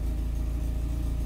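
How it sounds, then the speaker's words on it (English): Car engine with a newly installed Spartan 2 wideband O2 sensor idling slightly rough and lean, a steady low rumbling hum with faint rhythmic pulsing, close and continuous, no voices. "so it's idling right now. It's idling a little bit, I would say just a tad rougher than normal."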